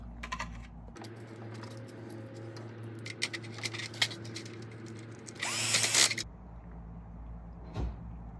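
Power screwdriver driving screws to reattach contact wires in the driver's side door handle of a 2000 Toyota Tundra, short whirring bursts with clicks and rattles, close up, ending in a louder burst then quiet.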